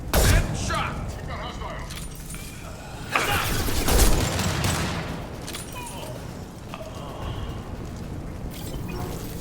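Blue Suns mercenaries and Vorcha trading gunfire in Mass Effect 2: dense, loud rattling bursts of shots and booms with cracks and impacts, under a voice speaking.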